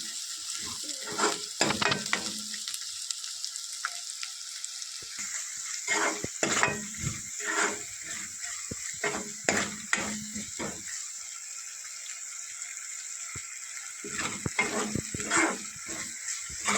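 Masala paste for prawn masala fries in a pan, a continuous close sizzle broken by repeated scrapes and stirring knocks of a spoon against the metal, with no talking.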